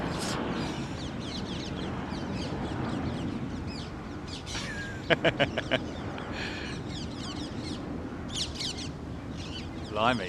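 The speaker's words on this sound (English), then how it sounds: "Look at them all. They're all parakeets, man." Parakeets come to roost in a tree, giving scattered shrill calls and a quick run of sharp squawks over steady outdoor noise, with someone speaking briefly.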